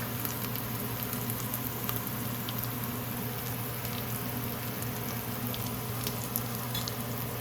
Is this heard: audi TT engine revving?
no